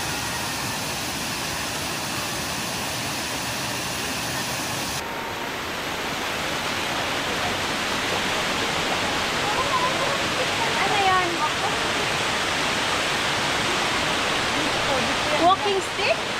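A waterfall on Siquijor island roars as a steady, dense wash of rushing water, loud and unbroken throughout.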